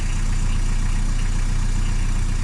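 A diesel car engine idles while it warms up, with diesel still in the fuel lines after cleaner has been added: a loud, steady, close rumble with an even throb and no other sounds.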